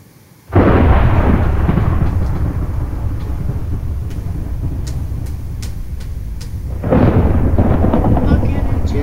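A Minecraft lightning disaster brings a sudden loud crack of thunder that rolls into a long, heavy rumble. A second strike hits toward the end, and faint clicks sound in the quieter middle.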